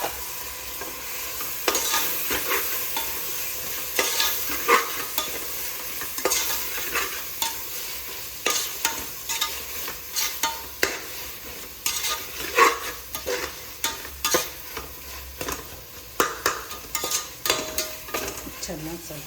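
Tomatoes fry and sizzle in a pan while a spoon stirs them in repeated scraping strokes, a steady sizzle running under irregular clinks and scrapes throughout.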